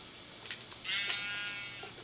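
Sheep bleating in the video game Minecraft, a few short bleats with a longer, louder one near the middle, heard alone without talk.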